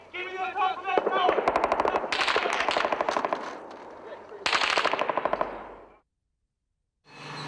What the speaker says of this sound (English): sporadic gunfire continued after sunrise